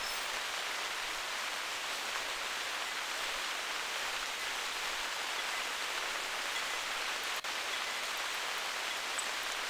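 Steady rain falling in the video game The Hunter: Primal, a constant dense hiss at moderate level with no talk, broken only by one brief faint click.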